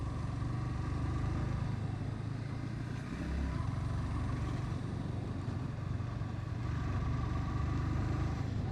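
A Yamaha MT 15 V2 motorcycle engine and exhaust runs at a steady, loud drone throughout, with a slight dip around the third second and no voices.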